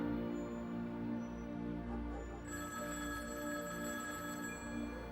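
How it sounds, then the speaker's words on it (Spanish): Telephone ringing in a quiet home at night, a faint electronic bell tone repeating in the background with a soft steady hum beneath it. "El teléfono despertó a mi esposa"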